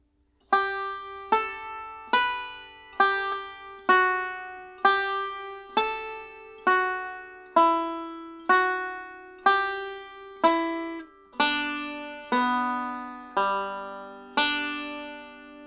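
Banjo picks rolls and licks from "Blackberry Blossom" as a steady run of bright, plucked notes, each ringing and decaying, close and clear with no voice.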